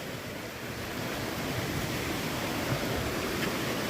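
Steady, broadband rushing of river water flowing below a suspension bridge in Vermont, continuous and fairly close with no talk over it.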